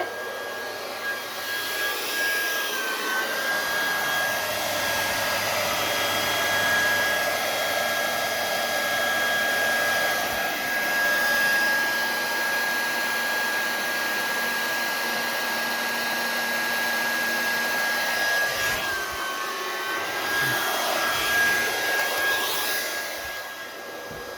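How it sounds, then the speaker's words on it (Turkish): A hair dryer blows steadily onto the temperature sensor of an Arduino smart greenhouse project, making a loud, continuous motor whine and airy rush close to the microphone that lasts the whole stretch, with no talking. "Saç kurutma makinesi kullanacağım"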